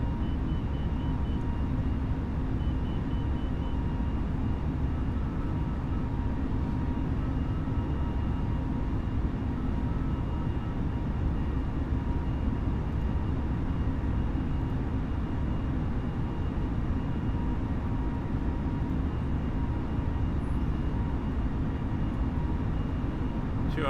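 Airliner engines at climb throttle during takeoff in a flight simulator departing Incheon, a steady broad roar with deep rumble holding evenly loud throughout, no voices.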